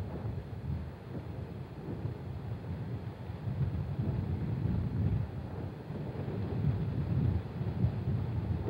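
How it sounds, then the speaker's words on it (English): Strong wind gusting up to 30 knots off Carmel Bay at a golf course by the sea, a steady roaring rumble that swells and buffets the microphone with no talk. "Wind, times, gusting up to 30 knots coming off Carmel Bay today."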